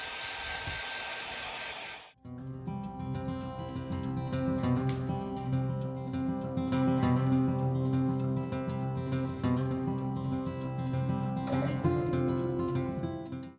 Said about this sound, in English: So keep it at a distance and you could just blow dry it.